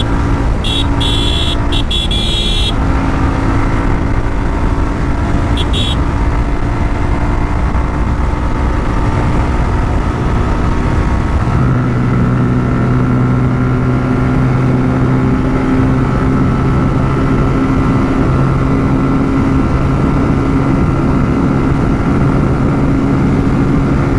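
A Suzuki Gixxer SF motorcycle engine pulls steadily from fifth gear, a continuous loud drone with rising tone and wind rush, broken early by a few brief high tones.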